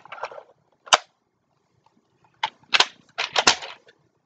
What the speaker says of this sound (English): I particularly like this gun because it's a sniper and the bolt action.